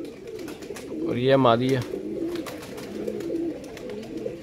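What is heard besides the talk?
pigeons cooing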